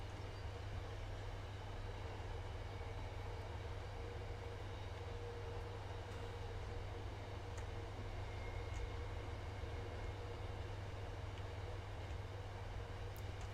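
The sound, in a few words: CSX train passing on the line in Train Sim World 5 video game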